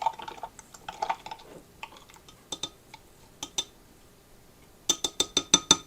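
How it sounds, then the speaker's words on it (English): A spoon stirs a yeast mixture in a bowl, giving light scraping followed by a close run of sharp, rapid clinks against the bowl's side that grows more regular toward the end. "we're gonna stir this up a bit and get all that yeast hydrated"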